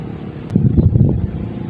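Strong gusts of wind buffeting the microphone by the Cagayan River, producing low rumbling thumps that swell in the middle and settle again.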